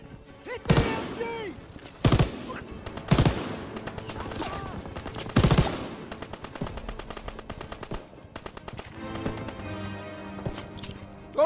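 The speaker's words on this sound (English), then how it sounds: "MG in the hayloft!" Machine gun fire in the World War II shooter game Call of Duty: WWII: loud, sharp gun bursts at irregular intervals, followed by faster rattling fire and battlefield clatter, with shouting voices in the mix.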